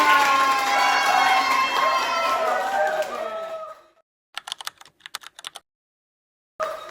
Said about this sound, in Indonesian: Oke, beri tepuk tangan dulu untuk Azan.